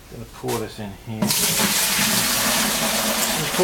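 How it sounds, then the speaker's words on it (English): Water pours steadily into a bucket while mixing a Shino glaze, a loud, close, continuous splashing rush that begins abruptly after someone speaks briefly. "I'm going to pour a bit of water in there."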